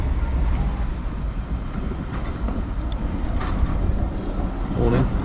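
A heavy, low rumble of a Class 14 diesel locomotive rolling past nearby at a heritage railway station, steady and continuous for several seconds, mixed with broadband wind noise.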